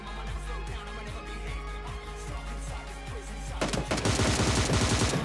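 Rapid automatic gunfire from an M762 rifle in PUBG Mobile on the Erangel map: a steady string of sharp shots that grows into a denser, louder volley near the end, with no talk.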